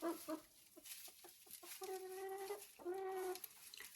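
Young hens about three and a half to four months old cluck nearby, giving a few short clucks and then two drawn-out, tonal calls, with no one speaking.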